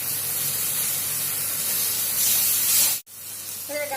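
Milk poured into hot roasted semolina and ghee gives a loud, steady broadband hiss and sizzle for about three seconds, then cuts off abruptly before a softer bubbling resumes.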